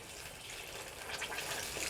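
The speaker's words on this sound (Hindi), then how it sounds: "और यहीं पर अब हम पानी ऐड कर देते हैं" About a cup of water pours steadily into a pan of frying matar paneer masala, a continuous splashing hiss with a faint sizzle, close by and uninterrupted.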